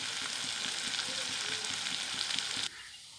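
Chickpeas and onions sizzle in oil with a continuous crackling fry and faint stirring scrapes, then the sound drops abruptly to a quieter hiss near the end.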